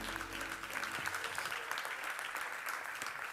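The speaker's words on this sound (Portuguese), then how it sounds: "Pode dar um aplauso ao Senhor" Steady applause from a church congregation during a Bible study, many hands clapping in a continuous even patter after a brief low tone fades at the start.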